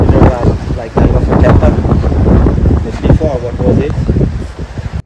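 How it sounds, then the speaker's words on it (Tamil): Sea waves and strong wind roar at a Pattaya shoreline at sunset, loud and close, with heavy microphone buffeting and someone speaking over the rushing surf. "இந்த அலையோட சத்தம், இங்கே அடிக்கிற காற்று"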